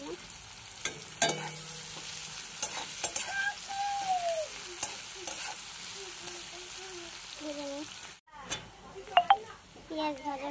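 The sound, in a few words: onions frying in a pan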